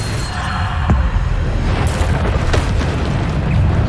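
A spell explosion from the Hogwarts Legacy video game bursts with a loud booming blast, trailed by further bangs and sharp pops against a dense roar of game effects.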